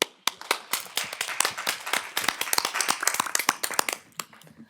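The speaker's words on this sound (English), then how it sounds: "I think we should applaud him" Scattered applause at a village board meeting for a former police chief, a small group clapping in sharp, uneven claps close by that thin out toward the end.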